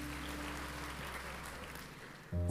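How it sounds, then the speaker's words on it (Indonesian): Church congregation applauding at a worship service, a steady wash of clapping held throughout at moderate level, ending with a sudden louder low tone. "Beri tepuk tangan yang meriah untuk Tuhan Yesus."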